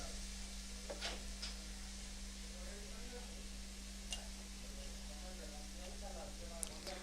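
Roasted eggplant stir-fried for Khandeshi bharit with turmeric and red chili powder sizzles faintly in a pan, with a few scraping stir sounds over a steady hum as a voice talks.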